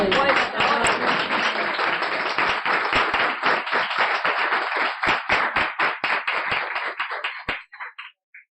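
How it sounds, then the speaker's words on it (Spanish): An audience applauds after an academic presentation on care and feminism, dense clapping at first that thins into scattered individual claps before fading out. "quiero dar un aplauso a Laura porque la verdad que..."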